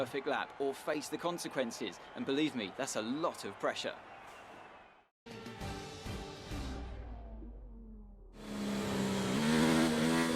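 An F1 car in the F1 2019 video game laps Circuit of the Americas during qualifying. The engine revs in rising and falling surges between gear shifts, then gives a long sustained scream, while someone talks over it throughout.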